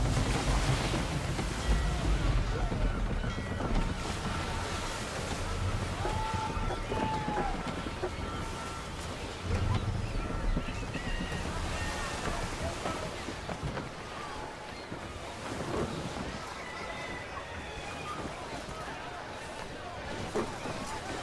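A sailing ship at sea in Assassin's Creed III, steady rushing waves and wind noise throughout, with shouted voices over it.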